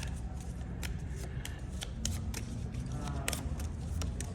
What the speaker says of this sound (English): is just 9 cards that we're just going to shuffle together.